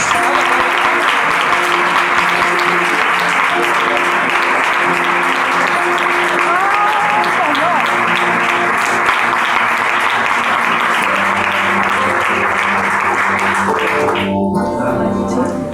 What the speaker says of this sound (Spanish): Dale un aplauso por favor a Dios.